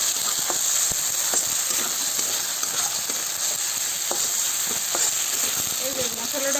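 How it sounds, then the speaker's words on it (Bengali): Ground ginger and cumin paste sizzles and fries in hot oil with a steady, continuous crackle and occasional stirring scrapes, close up and without talk. "আদা জিরে বাটাটা ভাজা হয়ে গেছে ভালো করে"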